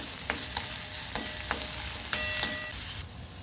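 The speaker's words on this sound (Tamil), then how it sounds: "வெங்காயத்தை நல்லா வதக்கிக்கோங்க" Onions sautéing and being stirred in a pan for a chickpea sundal snack, with a steady frying sizzle broken by sharp, regular scrapes and knocks of the spoon against the pan, close up and without talk.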